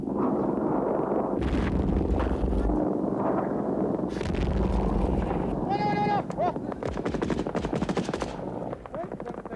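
Soviet troops in Afghanistan fire from the edge of a village. Bursts of gunfire and heavy booms mix with a narrating voice, and sheep bleat partway through amid rapid crackling shots.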